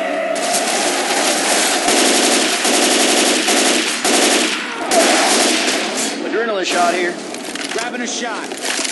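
Sustained automatic gunfire from Left 4 Dead 2 in The Parish's Quarter chapter, loud close rapid bursts firing almost continuously with short gaps, voices talking over the shooting.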